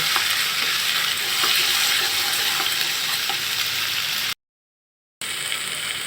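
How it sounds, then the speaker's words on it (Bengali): Onion paste with turmeric fries in a pan while being stirred, producing a dense, loud, continuous sizzle with scraping, cut by a brief total silence before it resumes. "হাফ চামচ হলুদের গুঁড়া ও বেটে রাখা পেঁয়াজ বাটা দিয়ে ভালোভাবে কষিয়ে নেব"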